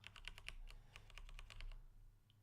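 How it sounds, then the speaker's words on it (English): Fast typing on a computer keyboard: a rapid run of crisp, close key clicks for nearly two seconds, then stopping, over a faint low hum with no talking. "Unfortunately, this is just typing."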